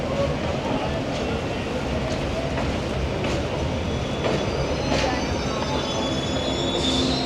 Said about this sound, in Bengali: 337 কিলোমিটারের যাত্রা শেষ করে ট্রেন আমাদের এসে পৌঁছেছে মালদা টাউন স্টেশনে